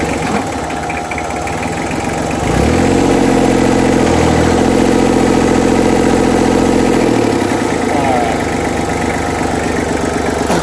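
A tractor engine idles steadily and loudly throughout, its pitch shifting as it revs up slightly in the middle, while tires are filled; someone says a brief word.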